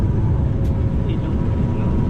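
A passenger airplane landing at Busuanga airport in Coron, Palawan, heard from inside as a loud, steady low roar of engines and rumble, with a voice speaking over it.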